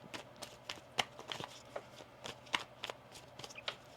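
A deck of tarot cards being shuffled: a series of crisp riffles and snaps, close and quiet, in irregular bursts with no voices.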